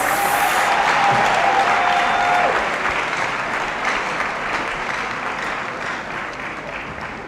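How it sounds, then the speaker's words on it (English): Big round of applause from the audience at a university graduation congregation in a great hall, loud sustained clapping that slowly fades over seven seconds. "Let us give me another big round of applause."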